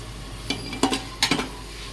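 Spiced potatoes stir-fried in a pan before chicken is added, soft sizzling under a few quick metallic scrapes and clinks of a spatula.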